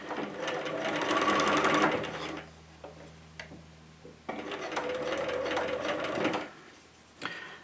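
A sewing machine stitches sheet fabric along an edge in two steady, fairly loud runs, with a quiet pause between them and a small click near the end.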